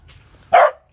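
Dogs at a kennel in Saigon, a Phu Quoc dog breeding farm, give one short loud bark rising sharply after a quiet stretch, then silence.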